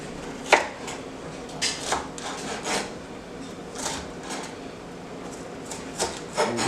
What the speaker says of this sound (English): Take your knife and go to the edge like so. Come down and start cutting.